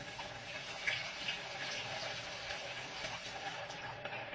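Hot water running steadily from a kitchen sink tap, a soft continuous splashing hiss with faint clinks, low in level and without talk.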